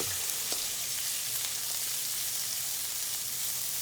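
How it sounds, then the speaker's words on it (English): Steady, loud sizzling of chicken frying in hot oil, a continuous crackling hiss with small pops, no talking. "The reason why the noise, because our maid is frying fried chicken."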